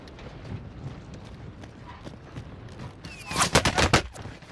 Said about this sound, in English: Under fire!